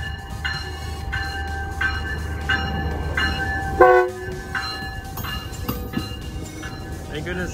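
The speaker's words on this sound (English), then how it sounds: "You hear the train coming, so we're crossing." A train passes a railroad crossing on the Pacific Crest Trail near Agua Dulce, California. Its horn sounds in several repeated blasts over a steady rolling rumble, with a brief clank partway through.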